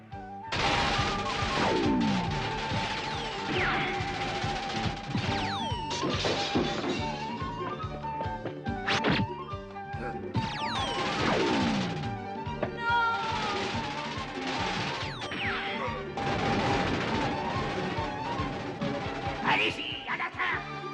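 Cartoon battle with bursts of gunfire, crashes and zapping effects repeating in loud clusters throughout, with swooping tones between the hits and no talk.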